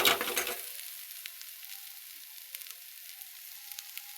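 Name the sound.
roasting spices with turmeric in a pan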